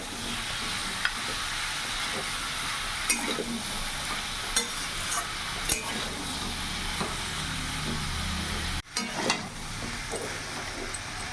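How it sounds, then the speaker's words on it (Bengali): A catla fish head fries with vegetables for spinach ghonto, giving a continuous oily sizzle with occasional scraping stirs and clinks, and a brief drop in sound near the end. "এই সবজিগুলোর সাথে একটু মাছের মাথাটাও ভাজা ভাজা করে নেবো একসাথে"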